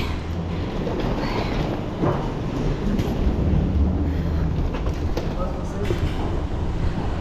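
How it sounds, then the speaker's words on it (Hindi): Rome train station ambience: a steady rumble of trains and station noise, with faint clacks and squeals from wheels and distant activity throughout. "रोमा की ट्रेन स्टेशन है ये"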